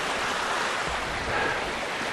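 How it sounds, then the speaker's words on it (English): A beck rushes beneath a bridge near Crummock Water in the Lake District, a dense, steady broadband wash of flowing water heard up close and loud, with no voices. "you see this beck here which runs into Crummock Water over there"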